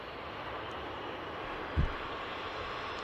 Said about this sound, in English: TUI Dreamliner on the roll.